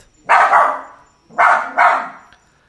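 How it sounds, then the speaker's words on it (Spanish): A dog barks up close in three sharp, loud bursts, a single bark followed by a quick double bark, with silence between them and no one talking. "Empieza a ladrarle a la nada."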